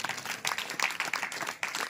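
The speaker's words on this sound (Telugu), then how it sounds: "చప్పట్లు కొట్టి స్తోత్రం చేద్దాం" Rhythmic clapping from a congregation praising at an Easter Sunday church service, moderately quiet, with hands striking together in a fairly regular beat of repeated bursts.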